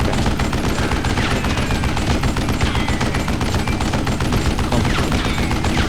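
Dense, continuous gunfire in the Western shooter game Call of Juarez: Gunslinger, loud, rapid overlapping shots filling the whole stretch without a break.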